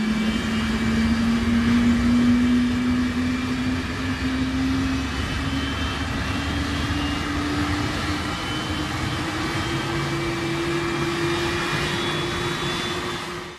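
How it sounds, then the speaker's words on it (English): A Boeing 747 engine spins up during a manual start, a steady loud roar with a slowly rising whine that holds for the whole stretch, with no voices. "This is what a manual engine start of a Boeing 747 looks like"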